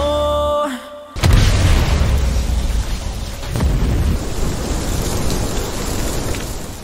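A booming explosion in an animated donghua fantasy battle bursts in after a short tonal lead-in, then a long roaring, crackling wash of debris noise rolls on and slowly fades, loud and close.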